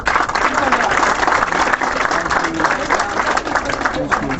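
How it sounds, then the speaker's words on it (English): At a graduation ceremony for Somali students in London, an indoor audience claps in a dense, continuous wash of applause while a voice talks over it. "Round of applause."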